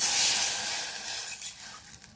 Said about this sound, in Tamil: இப்ப இதே வடச்சட்டியில நம்ம 3/4 கப் அளவுக்கு தண்ணி சேர்த்துக்கலாம்.